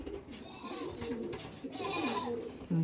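Kaldom pigeon cooing softly in a few low, rolling phrases, mixed with rustling and handling noise nearby, with no talking.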